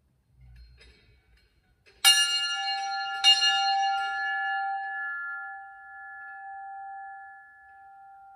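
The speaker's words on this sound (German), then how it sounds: "Wir läuten die Glocke und alle heben die Hand," Inside a church, a bell strikes twice about a second apart, each stroke loud and bright, with the ringing tone hanging on and slowly fading for several seconds; a faint rumble comes before the first strike.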